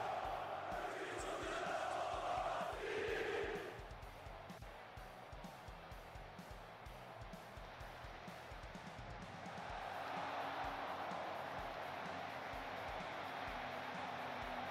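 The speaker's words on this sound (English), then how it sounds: "Stadium is full. Crowd is chanting." A full stadium crowd chants and roars during a one-game knockout match in a football video game, a loud swell at first that eases into a steady, distant crowd bed and then rises again.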